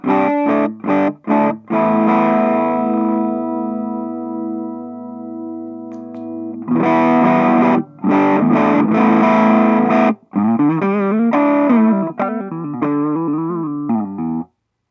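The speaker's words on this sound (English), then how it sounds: "It's already distorting." A micro-sized, battery-powered guitar amp distorts heavily as it plays sustained chords and then choppy riffs, loud and close with no voices.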